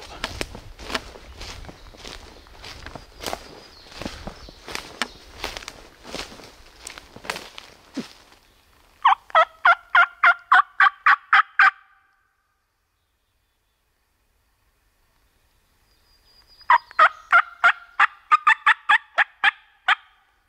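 A wild turkey gobbles from far off, roughly 250 yards away on public land on opening day, in two clear bursts of rapid rattling calls separated by a quiet gap, while footsteps crunch through leaves at the start.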